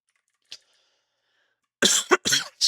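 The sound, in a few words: cough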